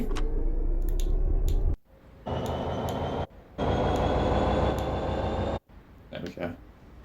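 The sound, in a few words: freight train wagons moving in a train simulator video game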